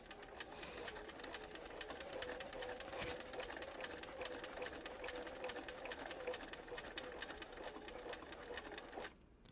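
An old Bernina home sewing machine stitches steadily while machine quilting with a ruler under the foot. It makes a rapid, even needle rattle, close and continuous, then stops abruptly near the end.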